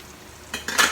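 Ground peanuts stirred into a simmering seafood kare-kare sauce: after a quiet second, two short, close scraping bursts of spoon against pot with a soft bubbling hiss underneath.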